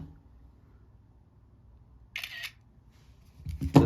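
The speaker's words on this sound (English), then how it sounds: "Let's go here to camera animation or camera sound effect on iOS 18." A single crisp iPhone camera shutter click sounds after near silence, followed by a second brief click-like burst at the end.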